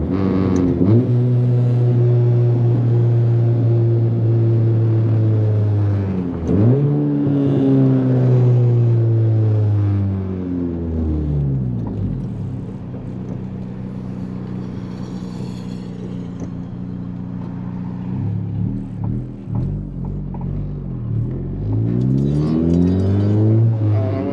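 A deep engine of a 10th-generation Honda Civic Si revs up and falls back repeatedly, a loud, throaty diesel-like rumble idling steadily between surges.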